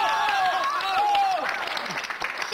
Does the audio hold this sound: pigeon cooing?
no